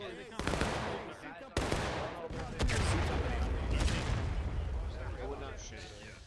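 A cannon firing canister shot in the Civil War battle game War of Rights, with sharp booming reports followed by a sustained rumbling roar of distant gunfire, heard under players' talk.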